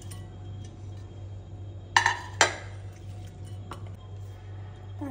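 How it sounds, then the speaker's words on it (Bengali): Washed prawns tipped into a bowl give a short burst of clinking and wet clatter mid-clip, with a second knock just after, over a steady low household hum. "চিংড়ি মাছগুলো একটা বাটিতে আমি ঢেলে নিলাম।"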